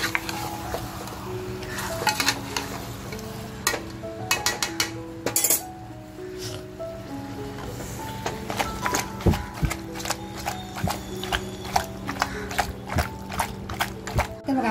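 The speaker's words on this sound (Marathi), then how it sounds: "मटण आहे ना आपलं मस्त असं फ्राय झालं पाहिजे" Mutton with garlic, ginger and chili paste being stirred and fried in a pan, a run of close metallic clinks and scrapes from the spoon, irregular and repeated, over a faint background sizzle.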